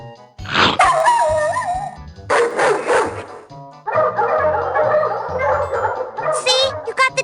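Dalmatian puppy Domino barking in the PS1 game 102 Dalmatians: Puppies to the Rescue, several loud close yips and barks in quick bursts separated by short pauses, with cartoonish voices mixed in.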